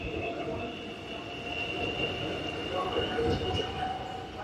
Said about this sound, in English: And there goes the Frankston line train heading back towards Frankston.